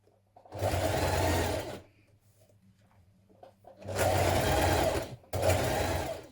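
A sewing machine stitches a hood casing in three loud, close bursts, a long run, then a pause, then two shorter runs separated by a brief stop.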